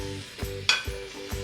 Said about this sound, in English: Now we're going to add our carrots and our parsnips.